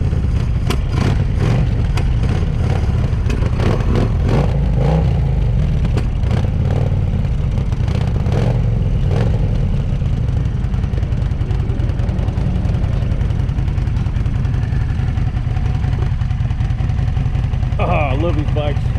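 Kawasaki Vulcan 800 Classic VN800B motorcycle, left sitting since 2005, running steadily at close range with a continuous low engine rumble through the whole stretch, plus some clatter and a person talking over it.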